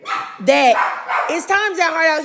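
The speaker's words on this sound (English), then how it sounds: "my dogs are barking" Dogs bark and yip repeatedly at close range in a home, giving short high-pitched barks with whiny tones in a quick, uneven series.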